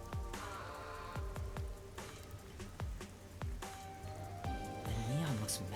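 Steady rain patters and splashes throughout a neon-lit city district in the game Rain Code, a constant hiss with scattered drips and chimes layered over soft music.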